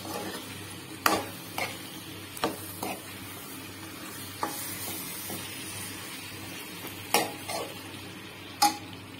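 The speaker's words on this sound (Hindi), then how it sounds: "इसे हम मसाले के साथ मिक्स कर लेंगे और इसे अच्छे से भूनेंगे" Taro (arvi) frying with masala and kasuri methi under a soft continuous sizzle, marked by occasional scraping stirs and spoon knocks against the pan, heard up close.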